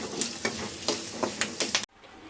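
Curry leaves and roasted gram fry in a pan with a loud close sizzle, broken by rhythmic stirring scrapes, then drop off suddenly to near silence.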